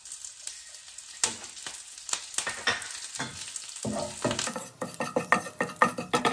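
Green chillies and plenty of torn curry leaves sizzle and spit in hot oil for a sweet potato dish, a dense crackling fry with irregular sharp pops and stirring clatter, close and steady throughout with no voices.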